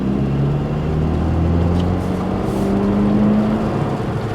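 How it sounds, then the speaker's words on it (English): A Toyota Land Cruiser 250 fitted with an SXTH Element intake revs up, holding a loud, steady engine drone with a rising tone near the mic, with no talking. "We'll go ahead and just give it some gas here."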